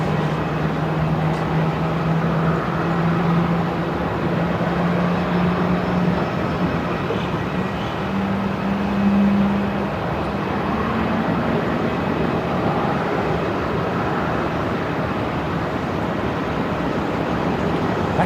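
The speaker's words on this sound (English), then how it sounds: "And the 220 now rolling, heading to Canberra." Distant airliner rolling for takeoff at Melbourne Airport bound for Canberra, a steady broadband engine roar with a low droning hum that swells slightly midway, heard from afar in open air.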